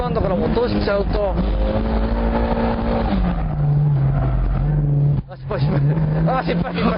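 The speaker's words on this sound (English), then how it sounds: "So make sure you rev it up enough to keep it up there." A car's engine revs hard through a drift, loud and close, its pitch climbing and holding high before a brief drop and a fresh rev, with a voice talking over it.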